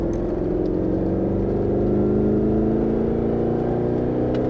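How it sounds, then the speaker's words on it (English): A Mercedes-Benz SLS AMG accelerates on a Las Vegas track, its engine droning loud and steady as the pitch climbs smoothly through a sustained pull, heard close from inside the car. "Squeeze the throttle out and back in the gas"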